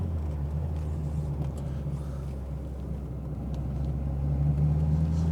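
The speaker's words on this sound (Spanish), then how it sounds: "El motor, por supuesto, es mucho más alegre que un escarabajo." Seat 850 Sport Coupé engine droning low and steady while driving, heard from inside the car as a soft rumble that swells slightly toward the end.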